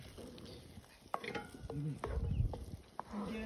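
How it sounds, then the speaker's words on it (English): Mirza Ghassemi, a Persian eggplant dish, is stirred in a pan over an outdoor camping fire, with intermittent scraping and soft sizzling, a few quick knocks and faint background voices. "Now we're gonna mix everything together now."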